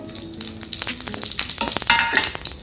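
Whole spices and dry chilli sizzle and crackle in hot mustard oil during tempering, a close, steady frying hiss with sharp pops and a stirring scrape near the end.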